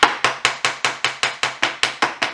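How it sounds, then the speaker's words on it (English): An acrylic hammer taps a motorcycle front wheel axle on a Honda CBR300R in about eleven sharp, evenly spaced knocks, each with a short ringing tail, close and loud with no talk. "So I'm just using a little piece of junk acrylic hammer here."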